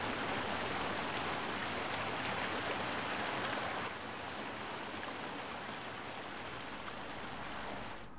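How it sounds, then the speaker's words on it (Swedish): Fast-moving spring stream water in Härjedalen, Sweden, rushes steadily in a dense, broadband wash, close and loud throughout, with a slight drop in intensity partway through. "I strida strömmar tar vattnet stockarna med sig ner mot kusten och sågverken."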